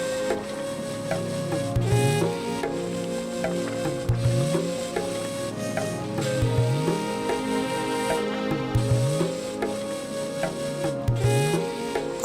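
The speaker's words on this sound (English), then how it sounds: "I'm just gonna go ahead and continue to stir up the pasta" Pasta with cheese, spinach, vegetables and meat sizzles in a pan as it is stirred, a steady close frying hiss with recurring scrapes and soft knocks of the utensil, with no talk.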